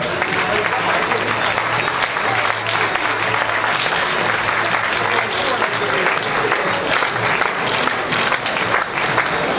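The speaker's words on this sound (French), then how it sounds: "sous les applaudissements du public" Audience at a bodybuilding Grand Prix in Lyon applauds steadily, a dense sustained wash of clapping throughout, with an announcer's voice faintly underneath.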